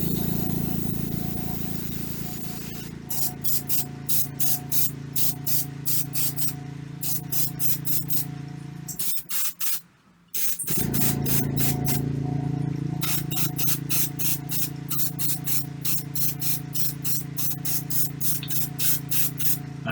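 Airbrush hissing paint onto miniatures in steady pulsed bursts, a rapid train of short sprays broken by a brief pause near the middle, close and fairly loud with no talking.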